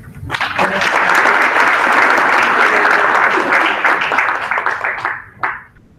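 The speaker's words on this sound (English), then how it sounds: "Give yourself a full round of applause." A room of participants at a school district strategic planning meeting breaks into a loud round of applause that builds quickly, holds steady, then tapers off with a few final claps.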